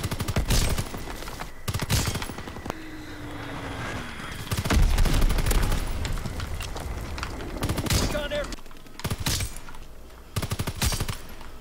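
Rapid gunfire from Call of Duty WW2 gameplay, with repeated bursts of automatic weapon fire and sharp shots crackling throughout, loud and close, mixed with game effects and a player talking over it.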